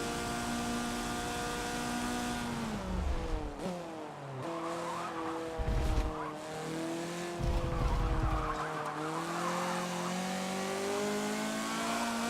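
A race car in Forza Motorsport 7 losing traction, with a sustained engine whine that rises and falls as the revs change, broken by bursts of tire skidding and squeal, all fairly quiet.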